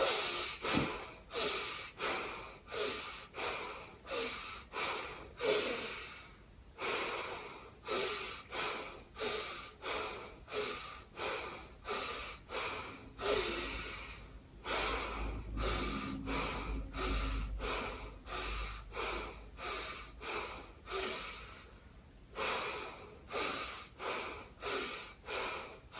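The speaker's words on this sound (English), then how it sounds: "We are breathing 4 short breaths, 1 breath long, full into our upper chest and belly" Rhythmic nasal breathing from a breathing exercise, with short, forceful sniffs into the upper chest and belly arriving in quick sets, each broken by a longer, fuller breath, close and clear with no talking.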